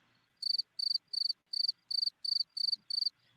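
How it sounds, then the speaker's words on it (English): Cricket chirping sound effect: eight evenly spaced trilled chirps, crisp and moderately quiet, repeating in a steady rhythm against near silence. "we'll use the cricket sound"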